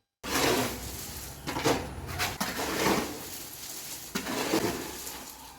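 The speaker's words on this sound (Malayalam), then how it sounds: "മെറ്റലും മണലും സിമെൻറ്റൊക്കെ നന്നായിട്ട് മിക്സ് ആയിട്ടുണ്ട്" Gravel, M-sand and cement for a dragon fruit support post are mixed by hand. The gritty scraping and shuffling bursts come in uneven waves and stay fairly close, with no talking.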